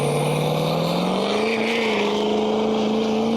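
A 725 hp Ford 6.7L Powerstroke diesel truck engine with an upgraded piping kit drones steadily up close, its pitch rising slightly then settling back at a sustained idle-to-light rev without any talk.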